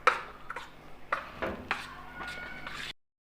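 Marinated beef for tikka boti being mixed with spice mix in a bowl, with soft clinks and scrapes of a utensil against the bowl in irregular strokes, close but quiet, ending abruptly in silence.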